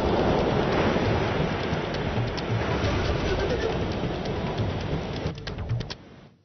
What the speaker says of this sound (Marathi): एका दिवसाच्या विश्रांतीच्या नंतर भंडाऱ्यामध्ये पावसाने जोरदार हजेरी लावली।